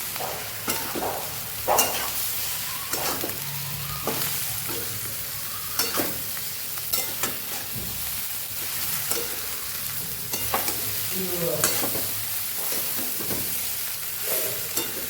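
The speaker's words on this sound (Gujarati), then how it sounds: "થોડા લીલા ધાણા ઉમેરી અને સરસ આપણે મિક્સ કરી દઈશું." Chopped coriander leaves are stirred into frying muthiya pieces in a pan, with repeated spoon knocks and scrapes over a soft, continuous sizzle close by.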